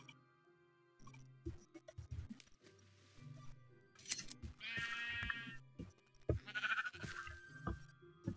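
Sheep in the Minecraft video game bleat twice in clear, wavering cries amid scattered clicks and soft game tapping.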